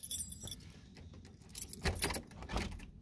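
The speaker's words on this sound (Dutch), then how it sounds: "sleuteltje pakken." A bunch of keys jangling close by in bursts, a first rattle at the start, then louder metallic shakes later on, with quiet pauses between and no talk.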